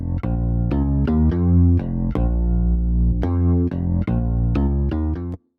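A synth bass pairing a Hypersonic pluck with a Massive low end plays a steady rhythmic pattern of short, punchy notes with a deep sustained bottom, loud and upfront with no voices.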